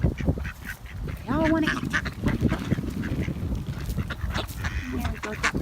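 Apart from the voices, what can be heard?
Canada geese and ducks honking and hissing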